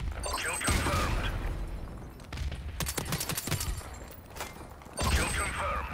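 Suppressed gunfire in a first-person shooter video game comes as a cluster of rapid, muffled shots midway through, set against steady game ambience.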